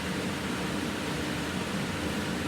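A kitchen fan whirs as a steady, even broadband hiss, constant and fairly quiet with no changes over a few seconds and no voices.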